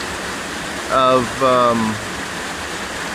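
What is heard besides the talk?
waterfalls at Los Azules, Tequila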